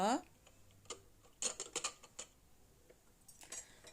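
A lid being fitted onto a pressure cooker holding soaked chickpeas and water gives a few sharp metallic clicks and scrapes in small clusters, near and fairly quiet, after a brief bit of speech at the start.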